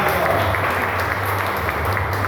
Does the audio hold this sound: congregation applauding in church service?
yes